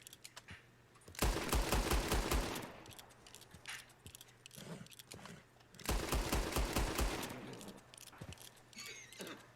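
Rapid bursts of gunfire in the Red Dead Redemption 2 video game, fired near Turkoman and Breton horses: two dense volleys of sharp repeated shots a few seconds apart, loud and close, with quieter clatter between.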